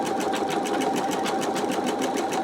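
An embroidery machine stitches a quilt held in a magnetic hoop, a steady fast mechanical whirring with even rhythmic pulses, loud and close, running without pause.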